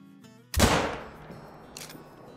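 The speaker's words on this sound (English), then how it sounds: "We're gonna shoot that brown bear really quick" A single loud, close rifle shot fired at a brown bear in theHunter: Call of the Wild. It cracks sharply, then rings off in a decaying tail, with a soft tone sounding just before it.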